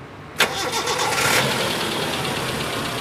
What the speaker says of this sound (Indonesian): Dan sekarang kita coba starter, kita dengerin dari suara langsamnya.